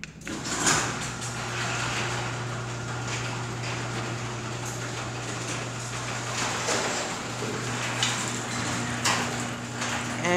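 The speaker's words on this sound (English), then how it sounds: "And this opener is a little loud, but the door is loud too." A Chamberlain C205 garage door opener raises a Clopay door, a steady motor hum and rumble with rattling and clunks from the moving door, fairly loud and continuous.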